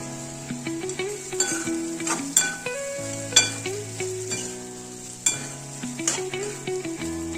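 Cut potatoes frying with turmeric and garam masala in a pan for samosa filling, with close, repeated stirring scrapes and clinks over a steady sizzle, no talking.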